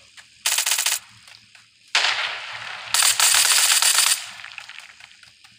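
Gunfire in the video game Badlanders comes as three loud bursts of rapid automatic fire, one short and two longer, with faint mechanical clicks between them.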